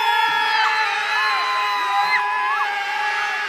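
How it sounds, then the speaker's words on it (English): A large crowd screams and cheers in a sustained, loud roar, with high shrieks and whoops rising and falling above the steady din throughout. "Crazy. They're screaming."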